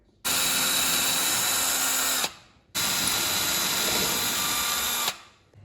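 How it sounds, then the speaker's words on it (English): A power drill bores through the base of a model railway tunnel built inside a suitcase, two sustained high-pitched whining bursts of about two seconds each separated by a brief pause, close and loud. "So I've drilled out some big holes here"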